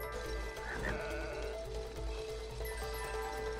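A sheep bleats in the video game It Takes Two, a short wavering cry near the start sitting over ongoing background music and a steady low hum.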